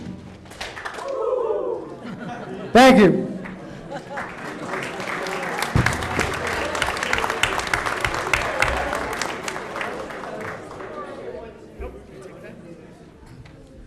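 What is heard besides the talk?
team clapping two hits and cheering woo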